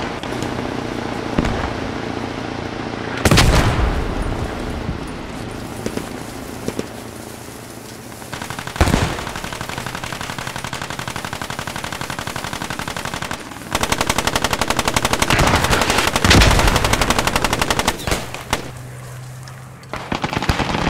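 Bren light machine gun fire in the Post Scriptum war game, loud bursts and single cracks breaking out repeatedly over a steady background of distant battle noise.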